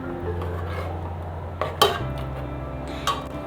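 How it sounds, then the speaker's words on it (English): Pepper mix being stirred into oil in a pot for ilala sepo, with a few scraping clinks of a utensil against the pot over a low steady hum, no talking. "Stir it together."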